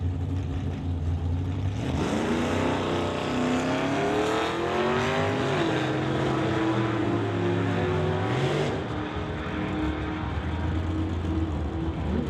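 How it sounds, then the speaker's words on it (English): Drag racing cars at an outdoor strip event roar at full throttle, a loud sustained engine note that climbs and wavers in pitch as they run down the strip, continuous throughout. "Sylvia Hookston's racing Brady Peterson."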